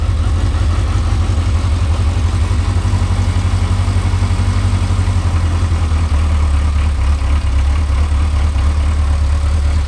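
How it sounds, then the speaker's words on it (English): A Yamaha XJ900F motorcycle engine runs at a steady, loud idle close by, a continuous low rumble with an even throb that holds the whole time, no voices over it. "to try and start the motorbike single-handed"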